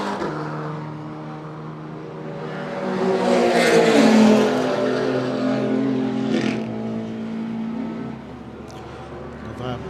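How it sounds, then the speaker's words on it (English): A Mercedes-Benz C63 race car engine roars past, rising to a loud raucous peak and fading, with a commentator talking over it. "the raucous cacophony of noise that is the Boss Security Mercedes-Benz"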